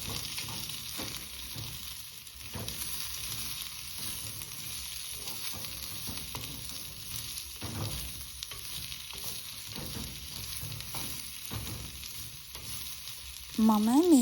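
Bilimbi pieces frying in a pan with tempering, a steady close sizzle and crackle with occasional stirring scrapes, a brief louder clatter at the very end.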